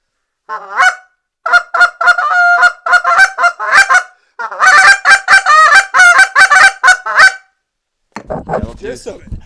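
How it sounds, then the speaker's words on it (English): A Delrin goose call is blown up close and loud, producing a series of sharp, rhythmic honks and clucks in rapid bursts separated by short pauses, ending with a brief voice. "I'll blow a Delrin one for you."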